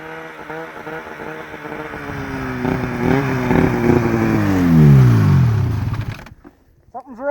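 A faulty Arctic Cat snowmobile engine runs close by, rising and falling in pitch as it revs and bogs, then sputters and drops out abruptly before a brief restart.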